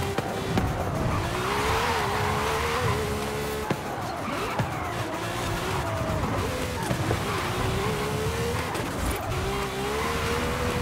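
An Audi R8 race car in Forza Horizon 5 roars at high revs with shifting engine pitch and repeated tire squeals through corners, loud and continuous, with a voice faintly beneath.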